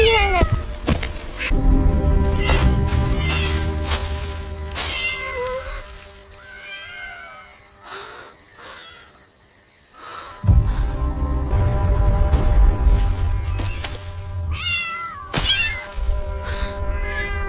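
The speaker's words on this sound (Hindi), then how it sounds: "ये तो बिल्ली है" A cat meows loudly and repeatedly, drawn-out wailing calls rising and falling close by, with brief pauses between them; music plays underneath.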